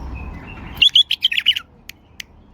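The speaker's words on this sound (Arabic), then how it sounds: "طير درجة اولى، تغريدة رقم 1." A tame caged male bulbul, a top-grade songbird, gives a quick burst of several bright, close chirps followed by two short isolated notes, with no talk.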